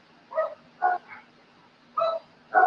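A fat dog barks from inside, giving four separate barks with pauses between them, fairly close and alone with no voices.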